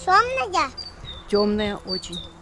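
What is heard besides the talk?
bird calling and singing outdoors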